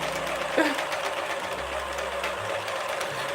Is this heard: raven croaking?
no